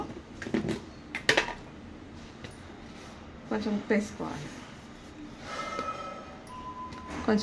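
Chaat masala, salt, chopped tomato and green chillies are mixed together in a bowl. A spoon makes close, irregular clinks and scrapes in several short bursts, with a quieter bed of room noise between them.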